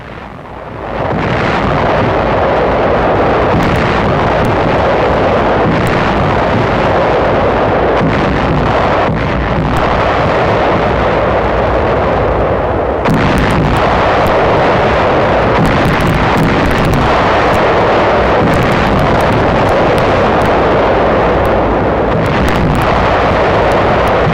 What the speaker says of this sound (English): Rocket ships aid in the preliminary softening up bombardment.